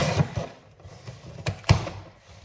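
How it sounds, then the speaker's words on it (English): Rustling and tearing of cardboard being opened, with a few sharp rips and scrapes, close by and moderately loud, no talking. "let me just open this box and it'll be quieter"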